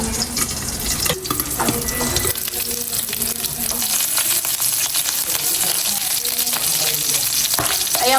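Garlic and onion being sautéed for a mung bean stew in a home kitchen, with loud sizzling frying, spoon scrapes and clinks against the pan, and a few sharp knocks, close up and without talk.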